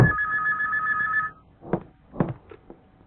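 An old telephone bell rings in one steady trill that stops after about a second, followed by handset clatter and rustling as it is picked up.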